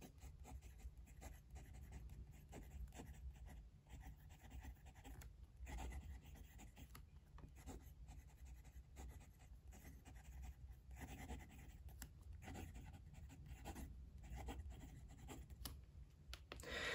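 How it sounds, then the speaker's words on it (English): A Spoke Design ICON fountain pen with Diamine purple ink writes on paper, giving soft, faint, close scratching strokes in a steady stop-start rhythm with brief pauses between words. "Okay, let's do some writing."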